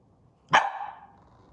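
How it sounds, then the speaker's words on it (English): A single loud bark from a dog, sharp and close, ringing out briefly against a quiet room. "that's my dog, because we have a dog and she's kind of cuckoo"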